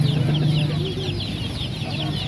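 Chickens cluck in a short, steady stretch over a constant low hum, nearby and moderately loud, with no talking.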